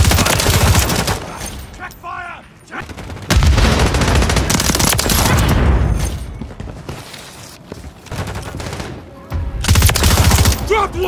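Dense video-game gunfire rattles through a chaotic firefight, bursts of automatic shots stacking into loud fusillades with brief lulls, plus a few sharper bangs and movement noise, close and forceful throughout.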